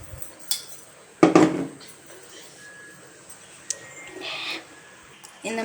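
Moong dal halwa made from ground moong dal and water is stirred in a pan, with scattered utensil clinks and scrapes, one sharp clatter early on, and quiet gaps between.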